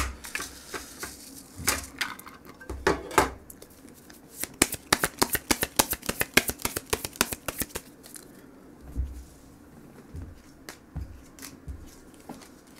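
Tarot cards being shuffled and drawn close up: a run of rapid riffling flicks in the middle, with scattered soft slaps and slides of cards before and after, and no talking.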